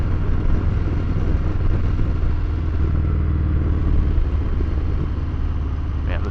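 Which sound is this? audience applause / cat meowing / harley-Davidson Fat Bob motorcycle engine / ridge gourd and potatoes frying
harley-Davidson Fat Bob motorcycle engine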